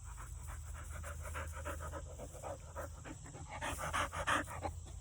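A pet dog pants steadily and close by, quick rhythmic breaths that grow a little heavier toward the end, with no talking.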